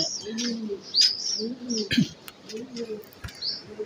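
Racing pigeons coo in low, repeated rounded calls while sharper chirps and tweets break in above them, close by and fairly steady throughout.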